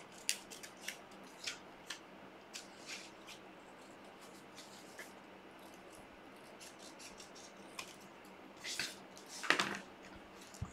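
Scissors snip paper during an art and craft session, with a series of crisp, close cuts spaced irregularly, growing busier near the end over a quiet room and no talking.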